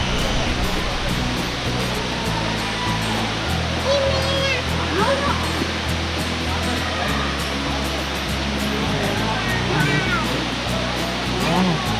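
Steady rushing water roars continuously from Talakona waterfall in Andhra Pradesh, heard from nearby, with people talking faintly underneath.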